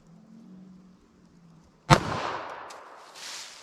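A single sharp .380 ACP pistol shot fired into a denim-covered MDF block, one loud crack that decays into a long ringing tail, with faint room noise before it.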